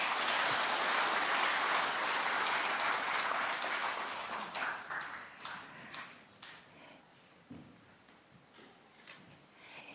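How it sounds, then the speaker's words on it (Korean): Large audience applause at a Parents' Day ceremony swells loudly at the start, then thins over several seconds into scattered individual claps that trail off into near quiet. "이중근 회장님께 다시 한번 큰 박수 부탁드립니다"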